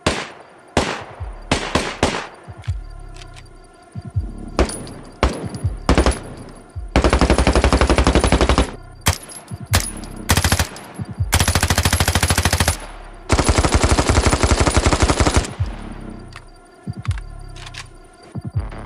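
Bursts of rapid automatic gunfire from the video game Standoff 2, with single shots between them, loud and close, in long sustained volleys.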